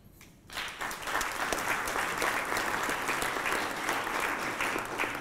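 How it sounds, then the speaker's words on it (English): Audience at an anniversary conference celebration breaking into steady applause after a brief quiet start, sustained clapping from many hands heard at moderate distance. "I hope you heard us applauding here."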